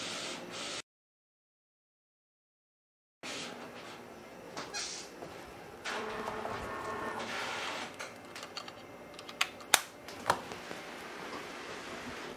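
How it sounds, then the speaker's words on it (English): Yamation DTF printer printing on film, a steady mechanical whir with carriage movements, faint squeaks and a few sharp clicks after a brief gap of silence. "I'm going to go ahead and let it finish printing out"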